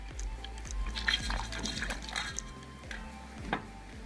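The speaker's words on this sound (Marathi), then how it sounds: "यामध्ये पाणी घालायचं" Water poured into pressure-cooked, mashed dal to thin it, heard as faint, close liquid splashes and drips that come and go in quiet bursts, with no talking.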